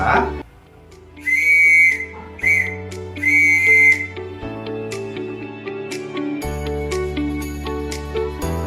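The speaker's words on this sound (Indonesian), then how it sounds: "kemudian bunyi dari huruf K" Morse code letter K whistled as three clear high tones, long, short, long, over steady background music.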